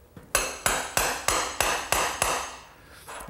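Hammer tapping a marking spot before drilling on a garden swing build, seven even, ringing taps in a steady rhythm, close and clear with nothing else over them.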